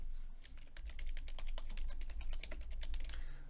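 Steady, fast clicking of keys on a computer keyboard runs without pause for a few seconds, close and fairly quiet, with a low background hum underneath.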